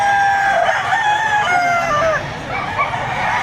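Gamecocks brought for sale at a weekend poultry market behind SM City Lipa, Batangas crow loudly and repeatedly, close by, with overlapping calls from several roosters over a steady crowd murmur.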